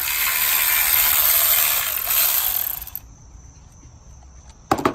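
A ratchet clicks rapidly and loudly while loosening a spark plug on an 8th-gen Honda Civic, the ratcheting running for about three seconds, then a quiet pause before a short burst of metallic clicks.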